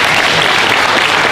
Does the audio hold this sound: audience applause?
yes